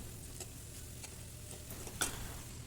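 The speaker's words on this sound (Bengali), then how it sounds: "তো এবার নেড়ে চেড়ে নিচ্ছি" Potatoes and chopped winter tomatoes stirred in a pan while cooking noodles, giving soft scraping and a faint sizzle with a sharper clack near the end, quiet and close.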